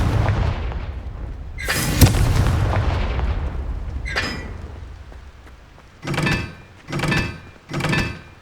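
A Confringo fire spell blasts in Hogwarts Legacy, a sharp booming crack followed by a rumbling tail, then a later thud and three short, loud bursts in quick succession, with no talk.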